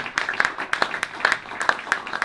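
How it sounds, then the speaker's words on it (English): An audience at a Green Deal sustainability and competitiveness event claps in welcome as a panel comes on stage, a short, fairly light round of applause with distinct individual claps. "Give them a big applause."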